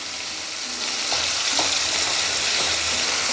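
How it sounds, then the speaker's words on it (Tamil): Onion and chopped tomato sautéing in a clay pot for a keerai kara kuzhambu, a steady close sizzle with soft stirring knocks and no talking. "வெங்க தக்காளி நல்லா வதங்கட்டும்"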